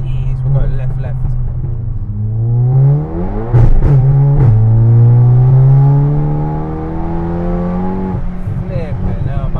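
A 632bhp SEAT Leon Cupra engine revs up from inside the cabin in rising, droning sweeps, easing and climbing again through the gears, loud and close, while people talk over it.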